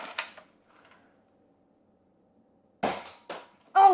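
A nerf gun fires at targets: a few short sharp snaps and clacks separated by near silence, one at the start and a cluster of three near the end.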